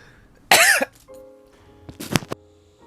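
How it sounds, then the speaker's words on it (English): A person coughs after choking on drinking water: one sharp, close cough burst, a pause, then a second rougher cough with throat clearing, alone in a quiet room. "I tried to breathe water when I was drinking it, and I coughed."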